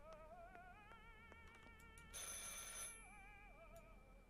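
Telephone ringing in the horror game Martha is Dead, a steady electronic ring repeating with a sustained warbling tone throughout, with a brief brighter noisy burst partway through, heard alone without talk.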